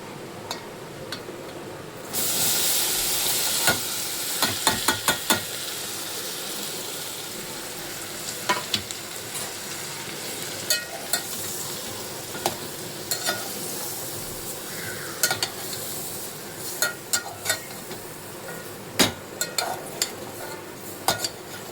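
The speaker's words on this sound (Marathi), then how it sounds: "छान असे आपण परतून घेऊ आता हे वांगे." Brinjal sautéing with spices in hot oil in a pan, giving a steady close sizzle and frying hiss with scattered clinks and scrapes of a stirring spoon against the pan throughout, no talking.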